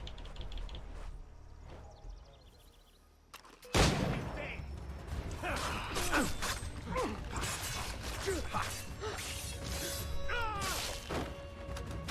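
Gunfire in the video game Assassin's Creed 3: one loud, sudden close shot cracks out after a quieter stretch, followed by continuous clattering mechanical noise and scattered crashes of battle.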